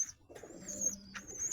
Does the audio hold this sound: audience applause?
no